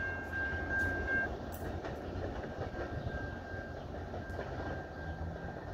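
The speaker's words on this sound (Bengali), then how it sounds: "ট্রেনটি মেল ট্রেন, লোকাল ট্রেন না, সেই জন্য স্টেশনে দাঁড়ালো না," A mail train passes through a station in Illinois without stopping, with a steady rumble and rattle of rail cars that stay fairly faint and distant throughout.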